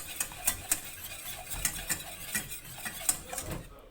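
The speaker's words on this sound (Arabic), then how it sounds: "الكولي ديالي صافي، كنبقى نحرك حتى تنحس به داب وكيذوب دغيا مع الماء مع السخونيه" A spoon stirs gelatin into hot water for a fraisier cake, its repeated quiet scrapes and clinks against the bowl keeping an uneven rhythm, close by and with no talk.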